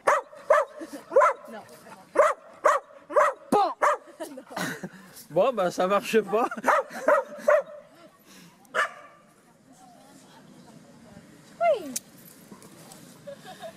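A dog barks in a steady run of sharp, close barks, then in faster overlapping yaps, before falling silent; someone speaks briefly afterward, and one last bark follows.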